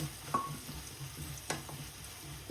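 Onions fry in a pan while cassava is cooked, with a steady close sizzle broken by a few sharp spoon scrapes and taps against the pan.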